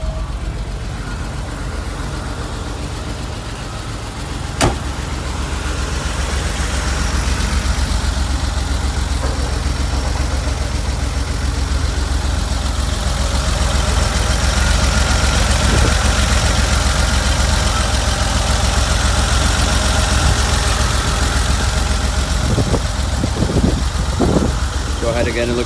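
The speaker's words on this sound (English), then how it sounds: "I'm going to go ahead and do a cold start for you" A 1994 Porsche 911 Carrera 4 engine idles steadily after a cold start, a low continuous rumble with a brief knock early on and a few clunks near the end.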